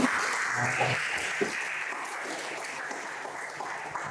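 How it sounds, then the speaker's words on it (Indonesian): Students in a class applaud after a group presentation, a dense continuous patter of clapping held at fairly even loudness throughout. "Beri tepuk tangan semuanya."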